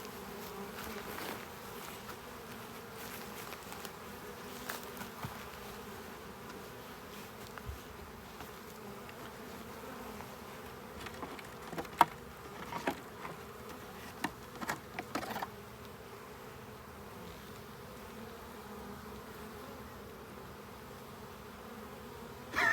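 A honey bee swarm buzzes around a box as it lands, making a continuous soft hum with scattered louder bursts of nearby bees passing close.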